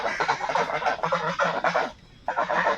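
A flock of geese honks in a dense, continuous chorus close by, with a brief lull near the end before the calls resume.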